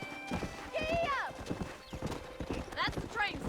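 Rhythmic hoofbeats of a galloping horse in Red Dead Redemption, steady clip-clop with whinnying and snorting over it, while people talk throughout.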